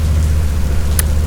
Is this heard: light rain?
yes